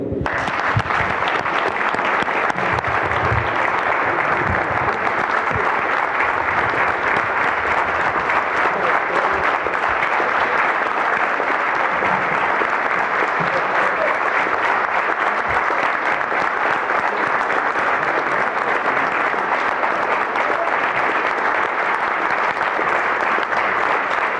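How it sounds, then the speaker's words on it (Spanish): Assembly crowd giving a long sustained ovation in honour of departed members, a continuous even roar of many hands clapping that holds steady for over twenty seconds. "Démosle 30 segundos de aplauso a todos ellos"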